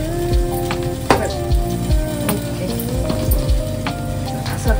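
Spice tempering (phodni) crackling in a pan for a jackfruit bhaji, a steady close sizzle with scattered pops and a few sharp clinks of utensils against the metal, heard alone without speech.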